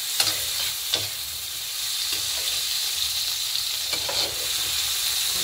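Thinly sliced food fries in a wok with a steady close sizzle, broken by a few light stirring scrapes and clicks, with no talk.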